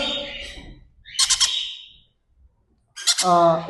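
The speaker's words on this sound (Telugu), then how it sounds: "ఎల్లో సైడెడ్ పైనాపిల్ కొన్యూర్ అండి చాలా మంచిగా బాగుంటుంది" A yellow-sided pineapple conure gives short harsh squawks close by: a burst early on, a gap of near silence, then a louder raspy call at the end.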